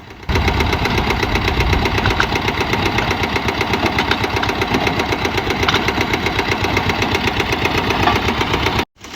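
A borewell motor removal machine runs its engine loudly and steadily as pipe is pulled from a borewell, with a fast knocking, idling chug that continues without a break and cuts off sharply at the very end.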